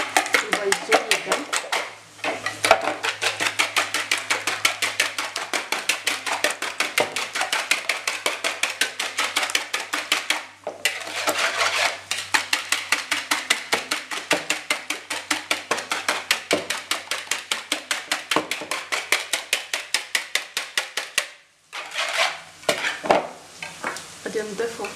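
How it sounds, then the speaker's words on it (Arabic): Eggs whisked in a bowl, a fast, steady rhythmic clatter of utensil against the bowl running almost continuously, with brief pauses and a voice talking over it. "على هذا غادي نحركوا البيض جيدا"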